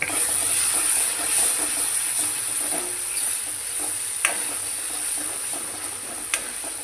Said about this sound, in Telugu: బాగా వేపుకోవాలి.